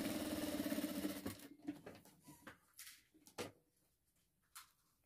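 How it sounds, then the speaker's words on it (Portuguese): A sewing machine stitching along the sides of a fabric handbag, running in a steady rapid whir for about a second, then stopping, followed by soft handling and rustling of the fabric. "Vou ajeitar essas laterais aqui também e vou costurar"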